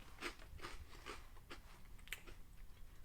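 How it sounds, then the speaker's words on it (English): Someone munches Funyuns onion-flavored snack rings close up, with about six crisp crunching bites spaced evenly, quiet but distinct and with no talk over them. "I can hear the crispiness from here. It sounds nice and crunchy."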